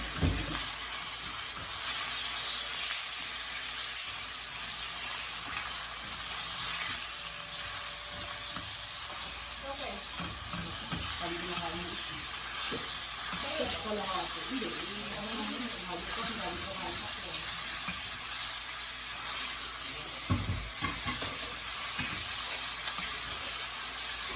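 Chicken breast sizzling steadily in a pan for sopas, a continuous frying hiss with occasional stirring clatter and faint talk in the background.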